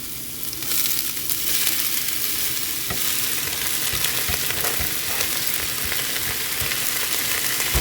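Onion stir-fried with a soy-based sauce in a pan for spicy stir-fried bean sprouts, sizzling loudly and continuously with repeated scraping of the spatula across the pan.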